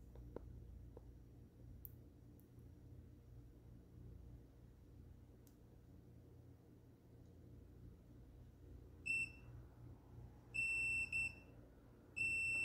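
A multimeter on continuity test gives a few short, high electronic beeps near the end, two of them longer held tones, over a quiet low hum.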